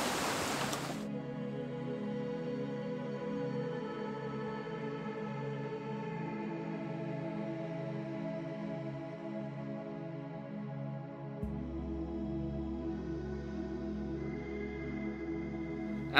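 A waterfall along a short winter hiking trail in South Carolina gives a steady, even rushing roar of falling water that fills the whole stretch without pause, with no voices.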